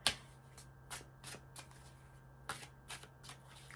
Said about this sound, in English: let me get a couple of shuffles here.